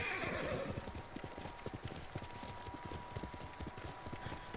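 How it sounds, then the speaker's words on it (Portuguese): Horse hooves clip-clop in a steady galloping rhythm with a whinny at the start, in the Ghost of Tsushima video game, loud and continuous with no talking over it. "Pega o cavalo, cavalo, cavalo."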